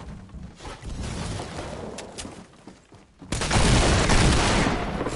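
Gunfire in the Fortnite video game, a burst of shots that grows denser and louder partway through, with a sustained loud volley near the end.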